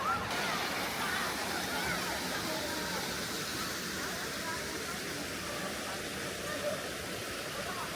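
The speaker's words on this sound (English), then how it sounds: "We are climbing up this little waterfall." A small waterfall in a village in Guangdong, China, splashing and rushing steadily, a constant broad wash of moving water heard from fairly close.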